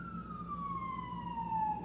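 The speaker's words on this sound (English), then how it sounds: "right now, these sirens are out here" An emergency vehicle siren wails outdoors at a moderate distance, its single tone sliding slowly downward over a low background rumble of traffic.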